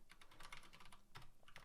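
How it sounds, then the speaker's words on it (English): Rapid clicking of keys on a computer keyboard, a close, quiet run of irregular taps with a brief pause before a few final strokes. "as you can see now, we can start typing this out."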